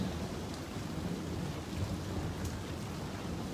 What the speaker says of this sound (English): That was a lot of thunder.